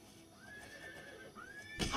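A horse in the video game Elder Scrolls IV: Oblivion gives two rising whinnies in quick succession, loud and close, ending in a short thud.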